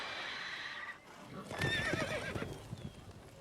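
Roach the horse in The Witcher Wild Hunt gives a close, clear neigh amid hoof clip-clops and ambient noise, lasting about two seconds.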